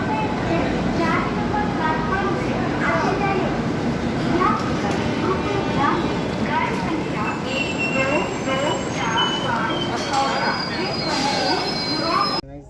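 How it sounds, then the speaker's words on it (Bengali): A Duronto Express train departing Bhubaneswar station rumbles and clatters steadily, with metallic wheel squeals rising over the constant loud rolling noise and faint chatter in the background. "ট্রেনটি এখন ভুবনেশ্বর স্টেশন থেকে তার নির্ধারিত সময় থেকে 1 ঘন্টা 20 মিনিট লেটে ছাড়লো"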